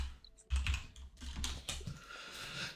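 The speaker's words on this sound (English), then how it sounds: "It's a very loud keyboard, I gotta say." A loud computer keyboard clatters nearby in uneven bursts of heavy keystrokes with thumping low knocks, continuous for a few seconds without speech.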